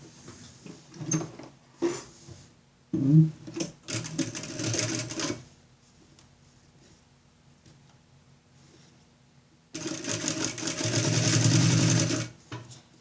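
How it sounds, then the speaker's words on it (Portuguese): Sewing machine stitching a fabric school pencil case with a pendrive holder, sounding in bursts of rapid mechanical running separated by pauses and quiet handling, close and fairly loud. "E vamos passar a costurinha."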